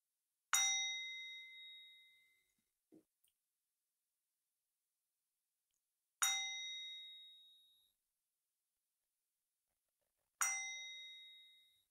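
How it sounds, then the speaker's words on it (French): Three separate strikes on a Tibetan singing bowl, each a bright metallic ding that rings and slowly fades, spaced several seconds apart in near silence, a soft tap between the first two. "Les trois petits coups de bol tibétain."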